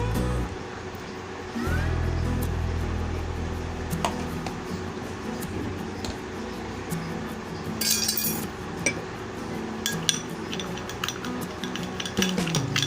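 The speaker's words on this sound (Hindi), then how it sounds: "तीनों चीजों को अच्छी तरह से हमें मिक्स कर लेना है। हनी, चंदन पाउडर और एलोवेरा का जेल।" A spoon stirs honey, sandalwood powder and aloe vera gel together into a face pack, with soft scraping and scattered light clinks against the bowl over a steady background hum.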